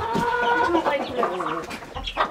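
A rooster clucking and calling at close range, a run of throaty repeated clucks in uneven bursts, with scuffling and handling noise around it and no clear talk.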